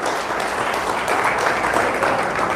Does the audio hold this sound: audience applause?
yes